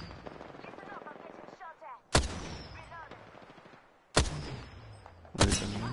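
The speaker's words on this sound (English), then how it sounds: "I'm getting shot at" Gunfire rings out in the video game Apex Legends as three sharp, loud shots crack at spaced intervals, each with a short ringing tail, after a stretch where a player talks.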